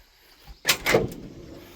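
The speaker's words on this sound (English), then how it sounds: "Doors open and close well." A 1959 Chevrolet Apache pickup door swings open and thuds shut, two close metallic clunks about a quarter second apart with a brief rattle after, loud against a quiet background.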